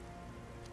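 Steady rain pattering on surfaces in the Uncharted video game, a soft, continuous wash with no voices, fairly faint and even throughout.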